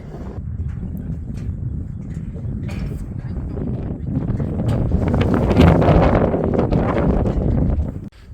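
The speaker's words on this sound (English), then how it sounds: "We're about halfway there, and it's windy." Strong wind on a volcano summit climb in Iceland, buffeting the microphone as a continuous rough low roar that swells stronger toward the end, with scattered gust thumps and no clear talk.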